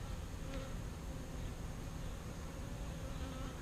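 Bees hum in a thick, constant drone inside a hive with newly emerging young bees, close and unbroken, with no voices.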